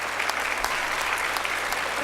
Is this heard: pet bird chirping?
no